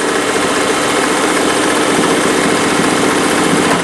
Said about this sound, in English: Now watch, let's go over here and you'll see that it's going to start sewing again.